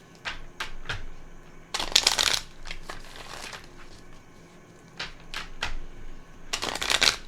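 Tarot cards are shuffled in repeated quick riffles and bursts, crisp papery flutters and taps close by, separated by short pauses, with no voices.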